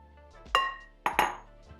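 A whisk clinks against a bowl of brownie batter made with cocoa powder, flour, salt and baking powder: a few sharp, close metallic taps in quick succession with quiet gaps between them.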